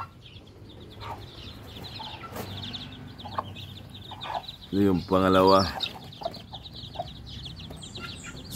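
Hens and newly hatched chicks cluck and peep around a backyard chicken yard, with one loud burst of clucking rising midway over a steady low murmur of birds while someone talks throughout.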